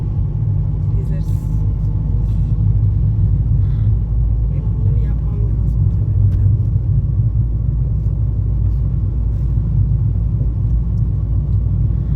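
A car engine accelerates on a Kağıthane driving test course, with a loud, steady low rumble heard from inside the cabin throughout and faint scattered clicks above it.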